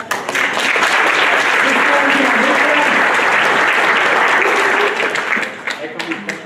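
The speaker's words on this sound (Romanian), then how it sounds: "Vă rog să aplaudați." Sustained applause from a conference audience at a social media summit in a hotel ballroom, steady and dense for about five seconds before thinning into scattered claps at the end.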